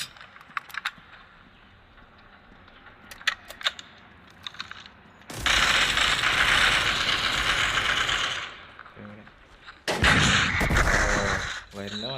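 WW2 video game weapon sounds: faint metallic clicks and clacks of a gun being reloaded, then loud sustained bursts of gunfire that stop, followed by another heavy burst, all close and dominant.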